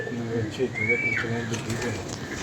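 Pigeons cooing in soft repeated low calls, with a thin whistling tone rising briefly in the middle; close and fairly loud.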